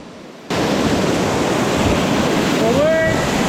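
Whitewater rapids on the Rio Pacuare roar as a loud, steady broadband rush that starts abruptly and keeps going, with a brief rising whistle-like tone near the end.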